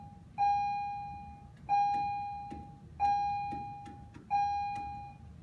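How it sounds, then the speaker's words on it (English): A school bell in a classroom rings four times at regular intervals, each a clear electronic tone that starts sharply and fades slowly, standing alone against quiet room noise. "There's the bell."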